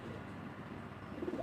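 Pigeons housed in small coop rooms in a village coo softly and low, making a faint murmuring warble that grows a little stronger toward the end. No one speaks.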